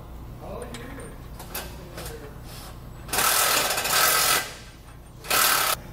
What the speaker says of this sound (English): And then we're just going to reinstall the nuts.